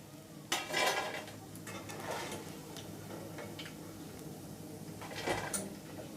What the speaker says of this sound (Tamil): ஆயிலேருந்து ஒரு பிளேட்டுக்கு மாற்றி எடுத்துருங்க